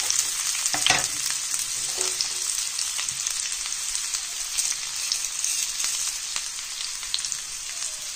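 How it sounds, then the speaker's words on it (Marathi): Onion and tomato go into hot oil with mustard seeds, producing a loud, steady sizzle with dense crackling and occasional stirring scrapes throughout. "तेल चांगलं गरम झालंय ना. आता कांदा आणि टोमॅटो ती राई टाकली जरा."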